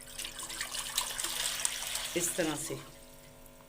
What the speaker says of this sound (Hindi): तो इसके अंदर हमने डालना पानी